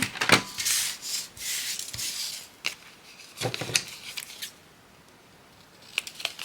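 Scissors snip and trim tag material for a masterboard craft project: a few quick crisp cuts mixed with papery rustling and rubbing, close but fairly quiet, tapering off toward the end.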